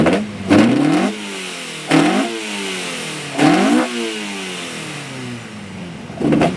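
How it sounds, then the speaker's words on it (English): Rally cars at the Lombard Rally in Bath roar past one after another, four loud accelerating passes each rising sharply, then dropping away as the engine revs fall, close to the roadside. "The cars move by."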